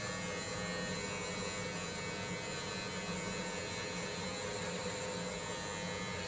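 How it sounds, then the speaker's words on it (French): An electric trimmer shaves a beard with a steady, even electric buzz that continues without a break from start to finish. "Et là on rase."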